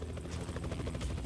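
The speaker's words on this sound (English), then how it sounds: "Helicopter." Rapid, chopping helicopter rotor thumps in the video game The Typing of the Dead: Overkill, fairly faint and steady, over a low rumble.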